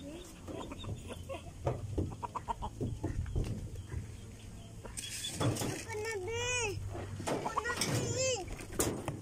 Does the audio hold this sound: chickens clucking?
yes